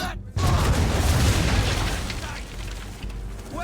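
Ship cannons boom in a broadside volley in Assassin's Creed III, a loud burst followed by dense rumbling blasts that fade slowly.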